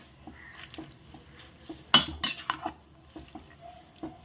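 Metal spoon stirring gongura leaves into chicken khichdi in a pot, with a few sharp clinks and scrapes against the pot's side among quieter soft rustling, close up.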